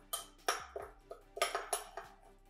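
Cookie crumbs, sprinkles and chocolate chips stirred together in a bowl, giving a series of light clinks and scrapes at an irregular pace, with a few sharper knocks standing out near and fairly quiet.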